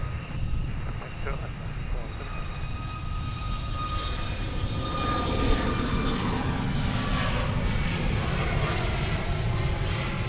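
A jet airliner takes off from Portland International Airport, its engines producing a sustained, broad roar heard from nearby, with voices faintly audible underneath.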